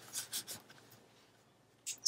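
Paper trimmed for a Graphic 45 Voyage Beneath the Sea mini album page: three quick, crisp cuts up close, a quiet pause, then one more sharp cut at the end, with no talk.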